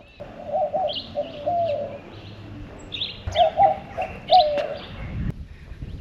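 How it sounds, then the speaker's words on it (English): Doves coo in soft, repeated low phrases nearby, mixed with a few brighter bird chirps over a quiet outdoor background. "And you can hear the doves over here."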